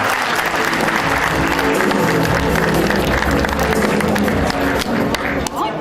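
A loud, sustained round of applause from an architecture department alumni meeting, approving a motion at a 40th anniversary event for Wonkwang University, with crowd murmur and voices woven through the clapping.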